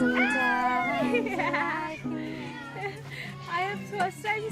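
Cats at a cafe in Hampi meow repeatedly, several drawn-out, pitch-bending cries close by, overlapping and trailing off into softer mews.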